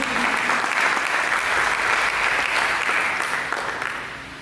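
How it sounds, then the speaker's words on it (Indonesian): A church congregation breaks into loud, sustained applause for Jesus during a sermon, a thick wash of clapping that fades slightly toward the end. "Berikan tepuk tangan bagi Yesus"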